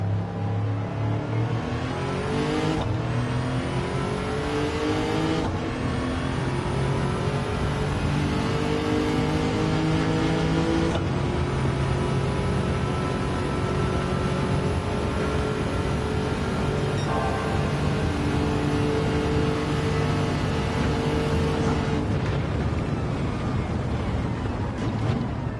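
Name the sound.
Tundra-swapped car engine revving in video game Gran Turismo 7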